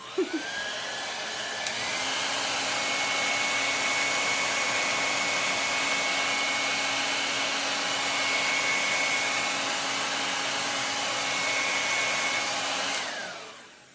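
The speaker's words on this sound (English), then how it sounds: "So I'm just going to hit this with my dryer for just a minute." A hair dryer switches on after a few clicks and blows with a steady, loud whine for several seconds before shutting off.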